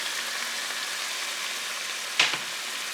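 Onions and minced garlic sauté in a pan with a steady, moderate sizzle, and a single sharp clack of a utensil lands near the end.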